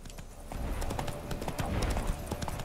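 Hooves of Roach, a horse in The Witcher 3 video game, clip-clop in a steady galloping rhythm, close and fairly loud over a busy game soundscape.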